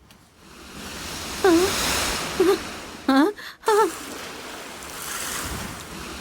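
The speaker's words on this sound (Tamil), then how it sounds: "இந்த கடல் அலைகளோட சத்தம் நல்லா கேக்குதா ஸ்வீட்டி?" Sea waves wash onto a shore with a steady broad roar and wind rumble, while a few short tonal voice-like sounds rise briefly over the surf.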